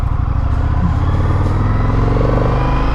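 An Indian FTR motorcycle is ridden, its engine growling loud and close with a steady throb that rises slightly in pitch as it pulls, with no talking.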